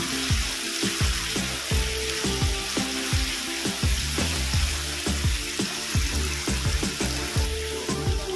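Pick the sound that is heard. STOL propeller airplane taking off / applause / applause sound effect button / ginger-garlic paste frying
ginger-garlic paste frying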